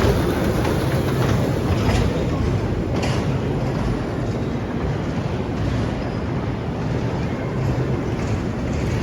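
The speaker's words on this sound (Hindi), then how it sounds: "इस तरफ ट्रेन चल रही है।" A train runs past in Milan as a loud, steady rumble and roar, close and continuous with no clear breaks, under a wash of broad outdoor noise.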